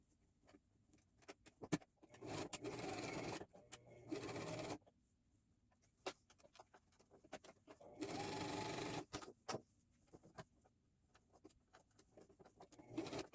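A sewing machine stitches a frontal wig in several short bursts of fast mechanical whirring, separated by quiet pauses filled with faint handling clicks and taps.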